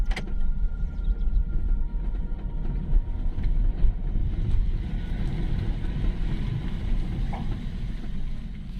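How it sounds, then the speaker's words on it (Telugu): A CVT automatic car accelerates from inside the cabin, its low engine drone rising gradually under road and wind rumble, with a few faint clicks and no clear speech. "నేను ఫాస్ట్ ఎక్కువ అయితే కానీ మనకు అక్కడ ఇంజిన్ సౌండ్ వస్తుంది"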